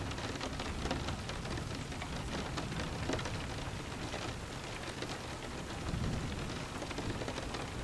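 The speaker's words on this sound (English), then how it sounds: "As you imagine the raindrops falling on the exterior of your sleeping place, you are drawn down more heavily." Steady rain of a thunderstorm patters densely on surfaces, with faint low thunder rumbling beneath. The wash of sound is continuous and fairly even, and no one speaks.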